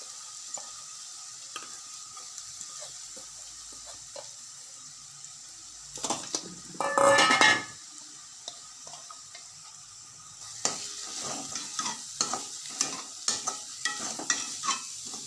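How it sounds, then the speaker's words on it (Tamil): Chopped cauliflower is sautéed in oil while making cauliflower chapati, with a faint background sizzle, scraping and stirring clatters from a pan, and a short loud burst of hissing in the middle. "புதுசாக இது இது சாப் பண்ணதை காலிஃப்ளவரை போட்டு வதக்கும்"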